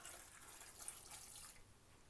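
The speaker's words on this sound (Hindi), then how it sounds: "1 कप इसमें पानी का डालेंगे" A cup of water is poured into a pressure cooker holding salted mutton with salt, black pepper and tomatoes. A short, soft splashing pour lasts about a second and a half, then fades into quiet.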